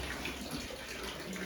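Hot spring water flowing steadily at a roadside stop in North Sikkim near Lachen, a constant splashing stream like a running tap, close and even throughout.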